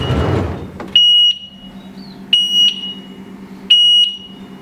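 An electric cart sounds its reverse warning: a loud, high, piercing electronic beep in three separated double pulses. A burst of rough noise comes just before the first pulse, and a faint hum sits underneath.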